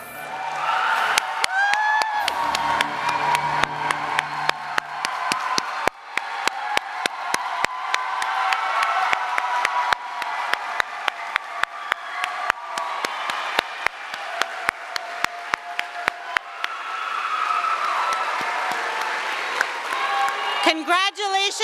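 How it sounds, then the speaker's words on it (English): Graduates and guests at the 2023 Yale College first-generation, low-income graduation give a long round of applause with scattered cheers and whoops, a steady crowd roar from a large room, with voices mixed in. "so we can give you one final round of applause"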